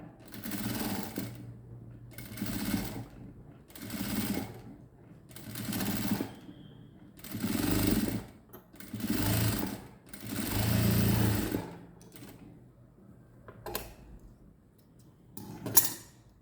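A sewing machine stitches piping on a chudidar neck in repeated short runs of steady whirring, with brief pauses between them and a speaking voice nearby.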